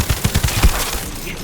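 Automatic gunfire from the shooter The First Descendant, a rapid burst of about six close, punchy shots in quick rhythm that cuts off and leaves a low, noisy tail of the game's background ambience.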